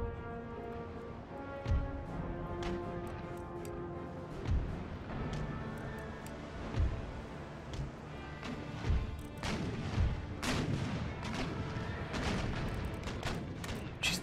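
Cannon and musket fire from an Empire: Total War battle, with heavy booming artillery shots landing every couple of seconds over a continuous crackle of massed gunfire and a low battle rumble.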